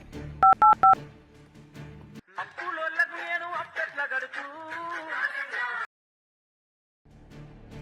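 Three quick dialing tones beep in succession, followed by a voice speaking, a short silence, then faint sound returning.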